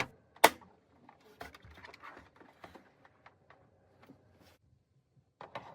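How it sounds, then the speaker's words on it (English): Sharp plastic clicks and light sliding scrapes of PS5 CFI-1200 faceplates being pushed back into place, a loud snap near the start followed by scattered small taps and rattles, close up. "slide both faceplates back until they click into place"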